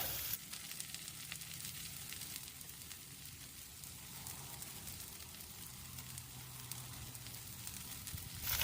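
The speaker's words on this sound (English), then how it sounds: "And I'm going to add some bacon." Bacon sizzles on a Blackstone griddle with a continuous, even crackling hiss that holds steady throughout, close and moderately quiet, with no talk.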